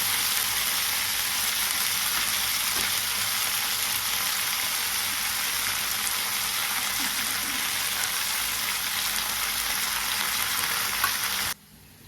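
Coriander seeds fry in hot oil, giving a steady, dense sizzle that holds evenly and close for several seconds before cutting off abruptly at the end.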